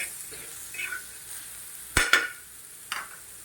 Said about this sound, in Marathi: हे परतून घेऊया मिक्स करूया